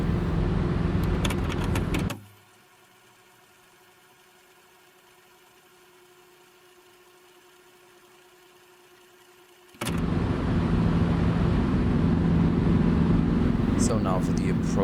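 Dreamfoil Schweizer S300 helicopter in X-Plane 12, with a loud, steady engine and rotor drone cutting to near silence for several seconds, then resuming. Faint talk is present.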